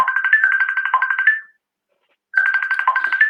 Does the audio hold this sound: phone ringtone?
yes